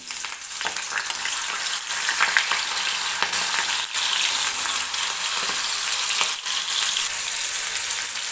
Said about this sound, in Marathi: आता आपल्याला तेल व्यवस्थित गरम झाल्यानंतर कट करून घेतलेला बटाटा टाकून घ्यायचा आहे